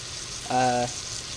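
A sausage fries in a pan with a soft, even sizzling hiss, briefly joined midway by a short tonal beep.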